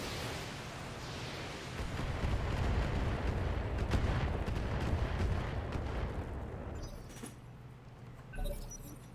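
Heavy video game weapon fire strikes a mortar carrier, a dense rumbling barrage of impacts and booms swelling through the middle and then thinning out, with a faint thump near the end.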